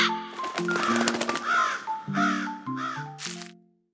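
Several harsh crow caws in quick succession, loud and close, with a brief gap midway and a final sharper call before the sound fades out.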